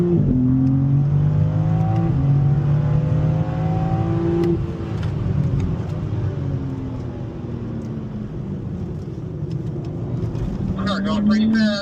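A BMW car pulls out of pit road and accelerates onto a race track during a BMW driving school session in Spartanburg, South Carolina, its engine rising in pitch through several gear changes, loud and close. A voice talks over parts of it.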